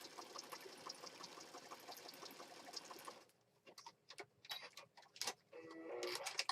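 A sewing machine runs in a steady fast rhythm as it stitches pages of an apothecary-style junk journal, then stops, leaving scattered clicks and handling noises before the motor starts again near the end.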